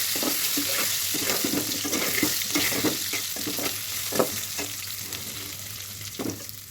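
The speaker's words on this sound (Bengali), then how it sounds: "এই আলুগুলি ফ্রাই করে নেব" Boiled potatoes frying in hot oil with spices and a bay leaf, giving a steady close sizzle with repeated scraping and stirring strokes over it.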